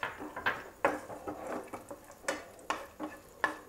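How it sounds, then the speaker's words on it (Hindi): Cashews and almonds roast in ghee in a pan, a soft sizzle broken by a steady rhythm of spatula scrapes and light clicks against the metal. "काजू और बादाम को मैं रोस्ट करूँगी"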